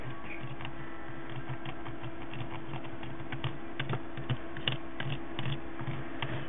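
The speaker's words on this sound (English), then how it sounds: "I'm going to take the knife and I'm going to shave off, just very lightly" Knife lightly shaving wax crayon for candle crafting, producing a quick series of small dry scraping ticks in an irregular rhythm, close up and faint against a steady background hum.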